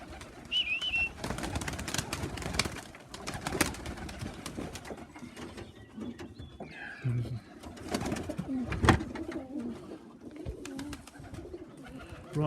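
Pigeons coo in soft, repeated throaty calls outdoors near a lawn, with other bird chirps, scattered rustling and clattering, and brief human sounds mixed in at moderate distance.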